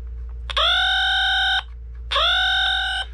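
Old toy Galaxy Gun 12 firing its electronic sound effect: two loud buzzy beeping tones, each about a second long, separated by a short gap over a low hum.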